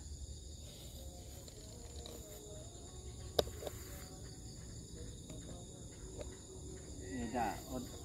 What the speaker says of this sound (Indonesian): Suara kodok, suara jangkrik udah mulai terdengar.